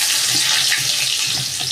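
Pumpkin and potato pieces drop into very hot oil already tempered with cumin seeds, giving a brief, close, hissing sizzle with some soft splattering and no talk.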